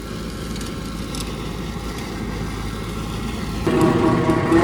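A tractor engine runs steadily while cutting Diamond potato vines in a field. It is a loud, continuous low rumble that swells noticeably louder near the end.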